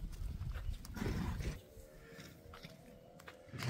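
A young foal of a line-bred horse herd neighs in a loud, drawn-out call, followed by a quieter, thinner tonal whinny trailing off.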